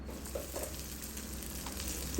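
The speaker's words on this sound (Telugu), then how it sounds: "ముందుగా పోపు బాగా దోరగా వేయించుకోవాలి" Steady, gentle sizzling of a spice tempering with curry leaves frying in hot oil, continuous and close, with no voices.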